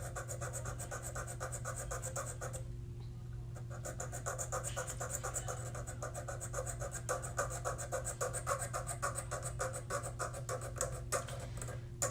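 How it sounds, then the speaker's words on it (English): Continuous rasping sanding on a plastic Gunpla model kit, a steady scratchy rubbing with faint rhythmic strokes over a constant low background hum, close and quiet. "It's just a lot of sanding."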